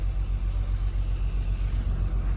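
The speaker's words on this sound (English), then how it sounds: "I just started to hear thunder." Distant thunder rolls outdoors during a weeping willow tree removal, a low, steady rumble that stays fairly loud and unbroken, with no talking.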